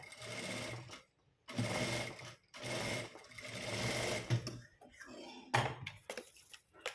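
A sewing machine stitches fabric while a shoulder strap is attached to a garment, running in several close, loud bursts separated by short pauses.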